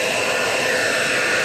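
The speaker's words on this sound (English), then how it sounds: "But since this is like a hair dryer, it's not really like a heat gun." A hair-dryer-like heat tool warming vinyl wrap on a Tesla Model 3 during adhesive repair, a steady loud blowing whoosh with no break.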